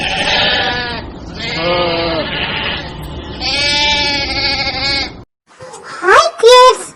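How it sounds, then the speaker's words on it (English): Sheep bleat loudly and repeatedly, about four long wavering calls in a row, and a short voice follows at the end. "sheep."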